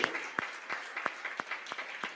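Sparse clapping from a church congregation praising God, distinct hand claps landing in a slow, fairly even rhythm at moderate volume with no talk over them.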